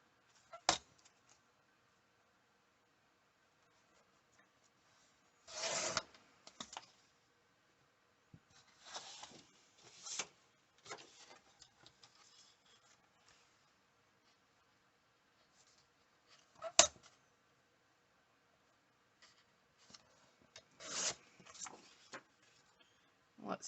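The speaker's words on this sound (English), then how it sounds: "And then I'm going to trim the front cover." A blade trims the front cover of a Christmas planner in short separate bursts of cutting and slicing. The cuts are near and soft, with quiet pauses between them.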